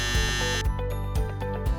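An SJE Rhombus demand dose pump control panel sounds its alarm horn during a test, a loud, steady electronic buzz with rhythmic pulses repeating about every half second.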